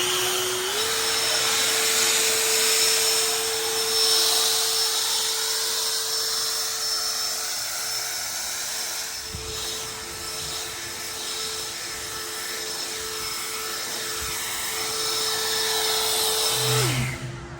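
Battery-powered Ego backpack blower running at a steady high whine for a long stretch while blowing fertilizer granules back into a lawn, easing off near the end; no talk.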